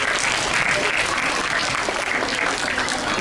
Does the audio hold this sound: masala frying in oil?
no